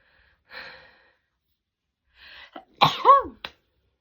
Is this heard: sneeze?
yes